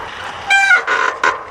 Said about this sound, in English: Seems that the yard switcher is still doing its thing.